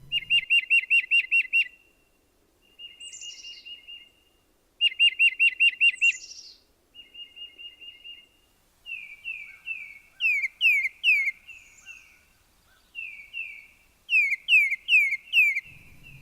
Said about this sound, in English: that's our tufted titmouse